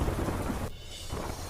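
Heavy monsoon downpour on a highway, a dense loud roar of rain with a rumbling thunder swell, briefly dipping before the rain noise returns.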